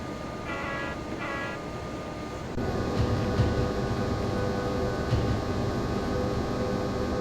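A ČD Series 163 locomotive on the Lodz–Warsaw line in a train simulator hums with a steady tonal drone that grows louder partway through, with a faint rumble underneath and a couple of short beeps early on.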